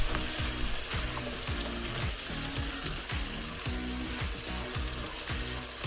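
Carrots sizzle in a hot pan with onions, peppers, garlic and ginger, a close, steady frying hiss broken by repeated rhythmic scraping strokes of stirring, with no talking.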